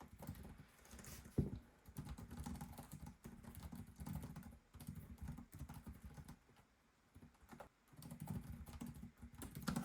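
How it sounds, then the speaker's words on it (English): Rapid keystrokes on the plastic keyboard of a Lenovo Legion 5 Slim 14-inch OLED laptop, a close, steady clatter of typing in bursts with brief pauses, no voices. "Excellent typing experience."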